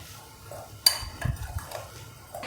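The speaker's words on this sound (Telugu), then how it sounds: "ఒకసారి ముక్కలకి పట్టేలాగా కలుపుకుందాం" Cauliflower pieces being tossed with a mustard, fenugreek and cumin powder mix in a bowl, giving soft scraping and stirring noises with one sharp clink of utensil on the dish near the start.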